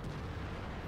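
A T-54 tank cannon fires in a video game, one heavy booming shot with a deep low rumble filling the short moment, heard fairly faintly with no talk over it.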